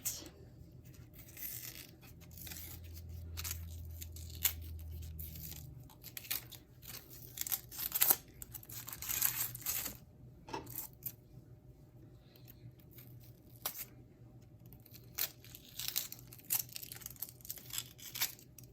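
A cucumber is peeled and cut, with intermittent close scraping, crisp snaps and knife clicks in irregular bursts and a low thump early on, no voices.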